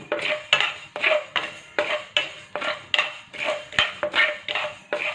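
Coriander seeds dry-roasting in a pan, stirred with a metal utensil, giving a rhythmic series of close scraping, rattling strokes roughly every half second with no talking.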